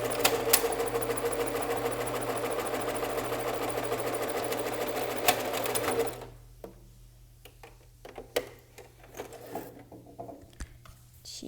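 A sewing machine runs in a steady continuous burst, stitching a standard zipper with flaps and backstitching at the start and end, then stops, leaving faint handling clicks and quiet rustles.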